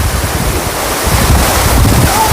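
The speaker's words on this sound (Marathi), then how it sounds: "या ठिकाणी एक धबधबा तयार होतो वरून खाली पाणी या पावनखिंडीमध्ये पडते" A waterfall pours from above into the rocky Pavankhind (Ghodkhind) pass in Maharashtra, producing a loud, steady roar of falling water mixed with gusty wind buffeting nearby.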